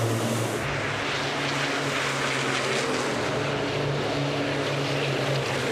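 Racing trucks at the European Truck Racing Championship at Le Mans roar past the stands, a loud sustained engine rumble with a steady drone and broad noisy wash, heard alone without talk.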